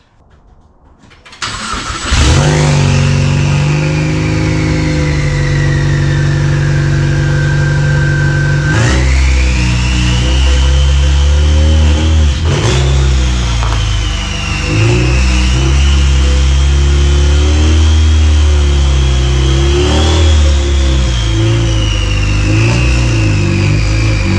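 Rear-wheel-drive Ford Fusion drift car starting up and revving as it drives off a lift, a loud rough engine note with sharp throttle blips over a steady idle, close by, without speech.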